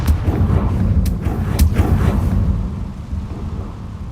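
A Confringo fire spell in a wizard video game bursts in a series of loud, booming explosive cracks with rumbling tails that fade out after a few seconds, with no talking.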